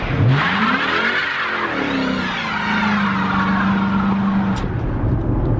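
A Dodge Charger RT engine revs hard during a burnout, loud and close, its roar climbing and then holding steady after a gear change, with the tires skidding and hissing underneath.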